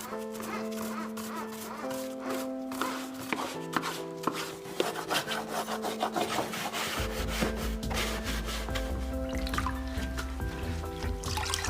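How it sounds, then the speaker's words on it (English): Brush scrubbing dry grass off a Husqvarna Automower robotic lawn mower, a series of close, rough scratching strokes in uneven rhythm over a background of steady tonal music. "Use a brush to remove dry grass."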